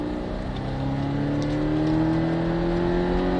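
A Porsche 718 Cayman S engine roars at full throttle on a racing circuit, its pitch climbing steadily as it accelerates, loud and continuous with no talking.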